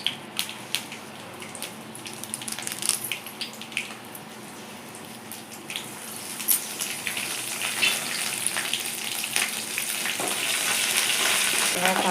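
Dried chilies, four or five garlic cloves and curry leaves fry in hot oil with a busy crackling sizzle that builds steadily louder and denser, spattering pops throughout.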